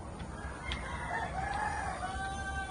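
A Golden Boy sweater rooster crows among a group of chickens; the call is fairly faint and drawn out over steady farmyard background noise, with no one talking.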